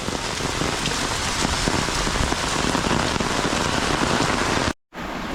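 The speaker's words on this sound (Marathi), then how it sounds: "तर मित्रांनो जबरदस्त असा पाऊस चालू आहे गावाला." Dense, steady downpour of heavy monsoon rain in a Konkan village drumming on surfaces, loud and continuous, with a brief dropout near the end.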